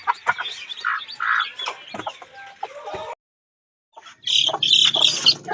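Week-old chicks in a small group of six peep and chirp close by in busy, overlapping bursts, broken by a brief silence midway, with no speech.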